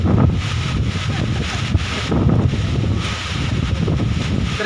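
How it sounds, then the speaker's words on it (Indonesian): Strong gusting wind roars across the microphone on the coast at Ende, a dense, continuous low rumble with surging buffets and no clear voices. "terjadi angin kencang di sini guys"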